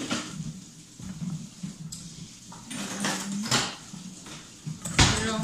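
Ingredients get mixed in a bowl on a kitchen counter, giving irregular scraping, clinking and knocking sounds at close range, with occasional sharper bumps and no one talking.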